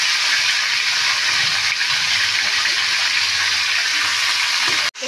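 Potatoes and green chillies frying in a pan, a loud, dense, continuous sizzle of hot oil close up that cuts off sharply near the end, no voices.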